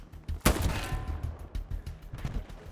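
Gunfire in the World War II shooter Hell Let Loose around a barn, a heavy close shot followed by scattered distant rifle and automatic bursts rolling on throughout.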